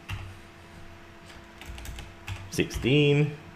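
Number keys tapped on a computer keyboard while programming Space Invaders in C#, a sparse scatter of close clicks running under a man's speech.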